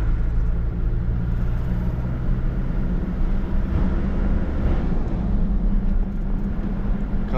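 A 1997 Ford F1000 pickup on 33-inch tyres with a straight exhaust runs close by, giving a loud, steady low engine rumble that holds throughout with no clear rev peaks.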